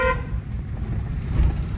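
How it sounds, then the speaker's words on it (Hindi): A car horn toots briefly at the start while a car edges through a narrow street around potholes, followed by steady road and engine rumble close by. "हॉर्न"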